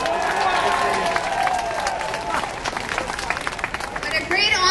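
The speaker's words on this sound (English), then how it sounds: "Please give her a round of applause" A crowd claps and cheers for the Premier of Ontario, Kathleen, at a community celebration of freedom and culture in Toronto. The applause is steady, dense and loud, with voices mixed in, and swells again near the end.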